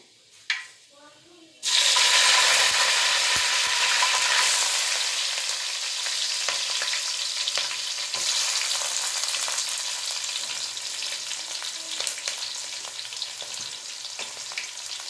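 Chopped onions hit hot oil for a South Indian tempering, with green chillies, coriander and curry leaves set aside, then fry in a steady loud sizzle. The sizzle starts abruptly after a short quiet lead-in and continues with faint stirring clicks.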